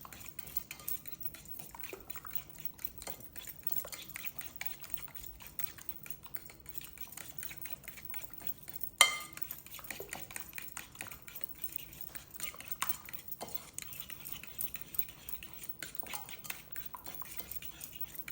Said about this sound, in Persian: و با چنگال من به همشون میزنم.